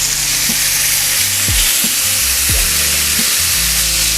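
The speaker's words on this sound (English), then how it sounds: "Once your steak have a beautiful crust like this, make sure you flip it to allow the other side to cook as well." Steak sears loudly in a hot pan with a steady, dense sizzle and crackle, close and continuous, with a few low thumps and scrapes as it is moved.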